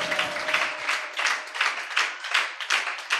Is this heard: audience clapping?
yes